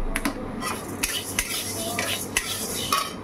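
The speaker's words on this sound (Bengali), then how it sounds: "ডালটা একটু ভেজে নেবো" Soaked lentils for khichuri are fried in a metal pan, heard as a soft continuous sizzle under several quick, bright scrapes and clinks of a spoon against the pan, close and fairly loud, without any talk.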